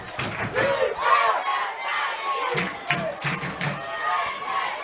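A high school football crowd roars and cheers on its feet, with shouts and whoops rising and falling over a steady wash of noise in an outdoor stadium.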